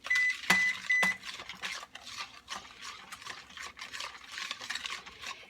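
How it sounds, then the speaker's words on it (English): Chicken, rice and mushroom casserole ingredients being stirred together in a bowl, a close, busy run of thick scraping and squelching strokes after two sharp utensil clinks at the start. "I'm just going to mix this together"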